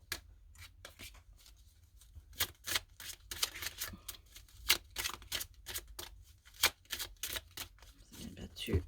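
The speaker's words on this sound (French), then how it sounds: "je vais battre les cartes" Tarot cards are shuffled by hand in quick, crisp riffling bursts and soft slaps, irregular and close, with a quiet room in between and no speech.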